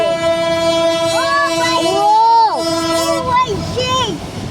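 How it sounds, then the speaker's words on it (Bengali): A freight train carrying oil passes close by and sounds its horn in loud, sustained blasts with rising and falling pitch. The horn lasts several seconds, then fades a little. "না ট্রেন এটা হলো তেলের"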